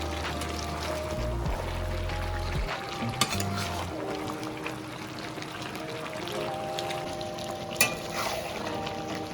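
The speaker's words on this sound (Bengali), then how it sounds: "আবার একটু নাড়াচাড়া করে দেবো।" Malabar spinach with fish oil and fish head is stirred in a hot pan, a continuous close sizzle with scraping and clinking from the utensil throughout.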